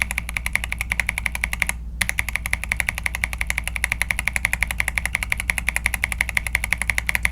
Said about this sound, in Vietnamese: Con này là con MMD Transparent Panda, âm của nó khá là trầm.